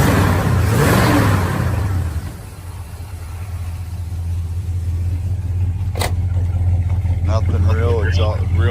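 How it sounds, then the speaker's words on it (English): A muscle car with dual exhaust idles with a steady low drone, loud and close, as a person talks over it before a brief gap and some background chatter near the end. "Got some dual exhaust on it."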